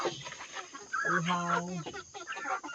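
Chickens raised for grilling cluck and squawk close by in a short burst on a farm, with one drawn-out call in the middle, and a person talks over the birds.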